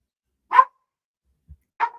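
A dog barks twice, loud and close, with a short pause between the sharp barks and a faint low thump in the gap.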